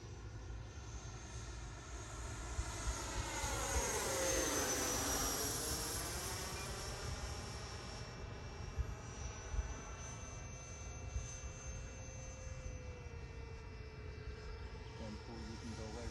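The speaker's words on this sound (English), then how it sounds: "Power it up a little bit right here so you can hear the motor better." An FMS BAE Hawk Red Arrow model jet's 80mm electric ducted fan motor powers up with a rising, steady whine, heard from close by over a faint outdoor background.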